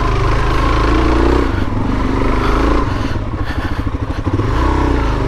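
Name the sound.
Suzuki DRZ400S dual-sport motorcycle riding off-road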